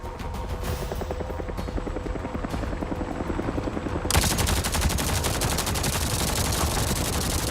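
Video-game helicopters thump with rapid rotor beats while bursts of machine-gun fire crackle around them. The battle noise swells sharply about halfway through and stays loud and dense to the end.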